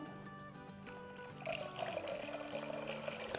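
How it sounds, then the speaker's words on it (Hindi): Cold water pours steadily into tamarind pulp, a soft rushing splash that starts partway through and continues, with some tonal background sound underneath. "ये जो 1 कप हमने इमली का पल्प लिया था इसमें हम डालेंगे 3 कप पानी"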